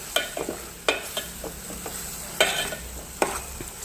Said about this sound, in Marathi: आता हा मसाला कांद्यासोबत टोमॅटोसोबत थोडा परतून घ्यायचा आहे